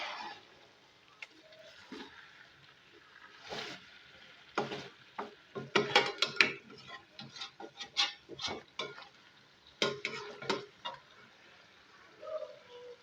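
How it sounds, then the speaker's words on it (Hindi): Cream is stirred into beef karahi in a hot pan, with a spoon scraping and clacking in irregular bursts over a faint sizzle, close up and without speech. "क्रीम ऐड करने के बाद इसको मिक्स करेंगे।"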